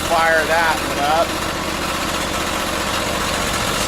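A twin-engine hot and cold water sewer jetter trailer engine runs with a steady, loud drone throughout, with a person talking over its first second.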